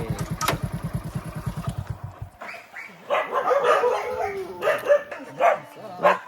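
Several dogs bark and yip together in a wild, forest-like setting near their swimming pool at feeding time, loud and close. A low, rhythmic engine-like rumble runs through the first couple of seconds.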